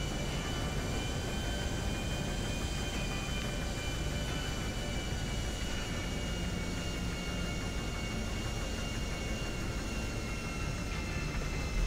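A golden airplane in a video game flies with a steady, loud engine drone and airy rush of wind that holds constant throughout, with no talking over it.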